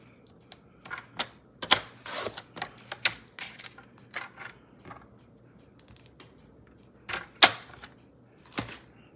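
Paper being cut to size for a Stampin' Up! Cheerful Daisies card kit, heard as a series of sharp, close clicks and short scraping strokes in an irregular rhythm, with a quiet pause in the middle and no talking.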